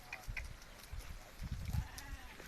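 A flock of sheep bleats outdoors in an Indian village: several short, wavering calls overlap near and far, with low shuffling and rustling beneath them and faint voices in the background.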